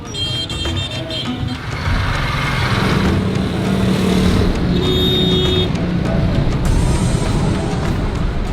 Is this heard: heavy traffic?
yes